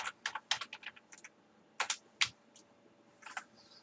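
Fast, uneven typing on a computer keyboard, with bursts of crisp key clicks separated by short pauses, close and fairly quiet, with no voice.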